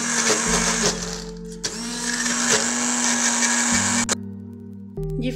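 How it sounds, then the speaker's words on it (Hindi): Hand mixer whirring steadily as it blends ginger, garlic and fresh turmeric into a paste, a loud continuous motor drone that shifts pitch a few times as the load changes, with brief stops near the end. "अब इसके बाद ना हैंड मिक्सर है ना, इसका मैं इस्तेमाल करूँगी"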